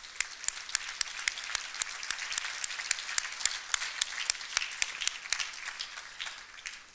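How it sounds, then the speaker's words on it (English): Steady audience applause at an awards ceremony for a long-standing river conservation group, with dense, evenly spread clapping from a sizeable seated crowd that holds a fairly even level and tapers slightly near the end. "You all deserve a huge round of applause."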